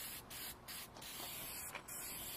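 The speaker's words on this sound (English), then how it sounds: "Now let's spray some rust reformer on it." Steady hissing of an aerosol can spraying rust reformer onto a Jeep CJ7 flat fender, continuous, broken by a few brief pauses between bursts, close and fairly quiet.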